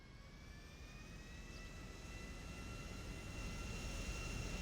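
A jet aircraft engine in the video game GTA 5 roars in a steady, broad whine that builds gradually in loudness, with a thin high-pitched tone running through it and no talk.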